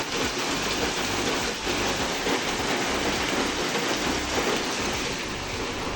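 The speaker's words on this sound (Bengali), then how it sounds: "আর এখন খুব জোরে বৃষ্টি পড়ছে" Heavy rain pours down steadily and loudly, a dense unbroken roar of falling water close by with no voices.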